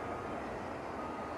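A plane rolls along a runway at Stansted Airport, heard as a steady, even engine rumble and roar from a moderate distance with no breaks.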